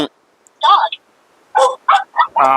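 A toy plays a loud electronic hen clucking sound in a wholesale toy shop, a few short bursts separated by brief pauses.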